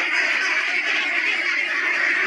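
Forty-one-day-old ducks on a duck farm make a dense, continuous wash of quacking and chatter, a steady flock noise with no talk over it.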